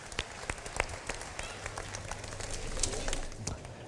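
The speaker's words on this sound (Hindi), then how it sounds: "तालियां बजा दें भाई" Scattered hand claps from a studio audience at a Ramadan iftar television show, loose and uneven over a busy background murmur of crowd noise.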